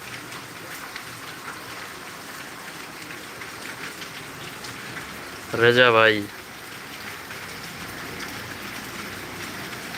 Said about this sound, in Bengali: বাইরে প্রচণ্ড বৃষ্টি